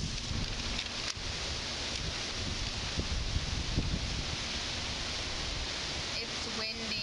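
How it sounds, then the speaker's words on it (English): Strong outdoor wind buffets the microphone as a constant, loud broadband roar that runs through the whole stretch with no break. There is no talking over it. "it's really windy out here"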